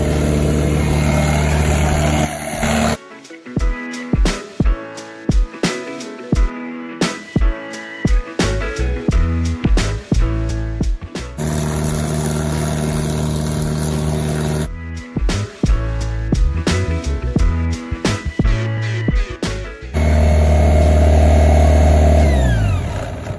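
A Doosan portable air compressor's engine runs in bursts, its revs repeatedly rising and dropping with sharp cut-outs and restarts, then settling into a steady loud drone, close up with no talking.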